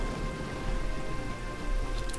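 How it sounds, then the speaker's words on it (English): Rain falling in the Pokémon White video game, a soft, steady patter with faint droplet ticks running continuously at low volume. "And now it's raining."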